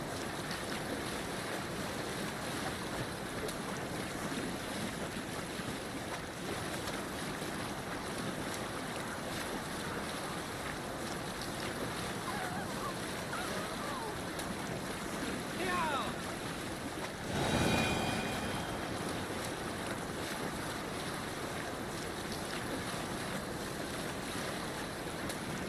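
A sailing ship in Assassin's Creed Valhalla moving through waves and wind, with a constant broad rush of water and gusting air throughout and a short swell of louder splashing near the end.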